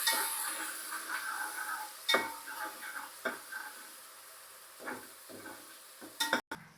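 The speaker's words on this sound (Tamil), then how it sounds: "இப்போ வெங்காயத்தை ஆட் பண்ணிக்கலாம். நல்லா கிண்டிக்குங்க." Crushed onions sautéing in a pan as they are stirred, with a soft steady sizzle broken by several sharp spoon scrapes and clinks against the metal, close and fairly quiet.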